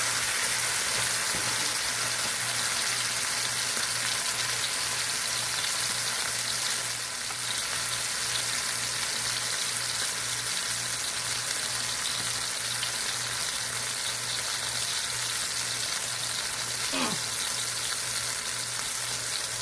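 Steaks for a Parisian bistro dish fry in a hot pan, giving a steady, loud, close sizzle and crackle that holds for the whole stretch with no voices.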